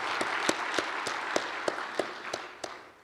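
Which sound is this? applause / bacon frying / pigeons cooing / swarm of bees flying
applause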